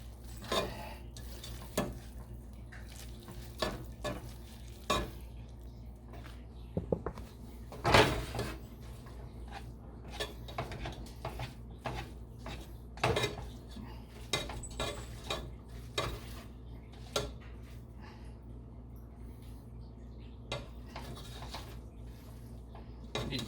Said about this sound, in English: And you're going to want to stir it and have it melt while you're stirring.